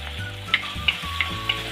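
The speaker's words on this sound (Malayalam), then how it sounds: "ഒന്ന് പച്ചമണം മാറി വരുന്ന വരെ നമുക്കൊന്ന് വാട്ടിയെടുക്കാം." Green chillies sautéing with ginger-garlic paste in a hot pan, a steady sizzle broken by four evenly spaced sharp clicks of a spoon stirring against the metal, with no talking.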